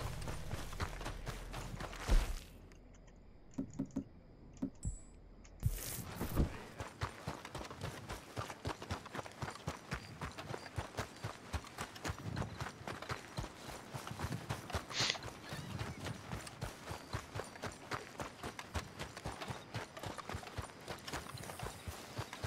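Horse hooves clip-clop in the video game Red Dead Redemption 2, a long run of quick, regular hoofbeats at a trot, moderately close, with a brief quieter gap early on and no clear speech.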